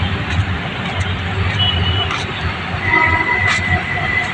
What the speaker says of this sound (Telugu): మెట్రో పోతూనే ఉన్నాయి గైస్.